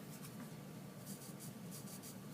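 Pen or marker writing out a vocabulary word in a Latin roots lesson, soft repeated scratchy strokes, faint and close, over a steady background hum.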